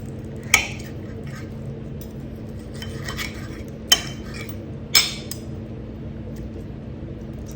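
A knife and fork cut into crispy air-fried peri peri chicken, giving three sharp crunchy clinks spaced apart over a low steady background hum.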